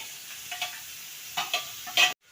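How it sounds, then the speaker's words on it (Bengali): Soft sizzling of spices with Kashmiri chili powder frying in a pan, with a few brief scraping stirs, ending in a sharp clatter before cutting off. "এই সমস্ত কিছু দিয়ে সুন্দর ভেজে নেব মশলাটা"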